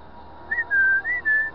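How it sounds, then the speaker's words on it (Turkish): A person whistles a short series of clear notes, a brief chirp followed by three longer held tones with small pitch slides. "ıslık çalacağım."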